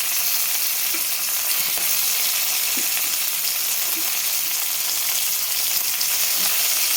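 Green chillies sizzle steadily in a pan of ridge gourd and tomato curry, a loud, even hiss of frying that fills the whole stretch with only faint occasional stirring knocks.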